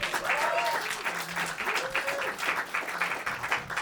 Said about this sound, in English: Please clap it up and put your hands together